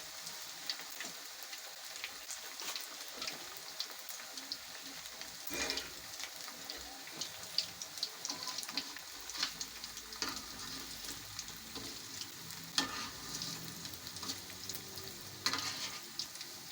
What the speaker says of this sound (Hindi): अब इसको हम फ्राई कर लेते हैं।